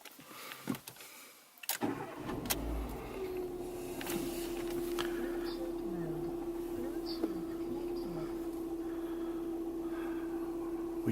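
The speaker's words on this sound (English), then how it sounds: "let's start the engine first." A car engine cranks and catches after a brief silence, then settles into a steady idle with a sustained hum, heard close and moderately loud.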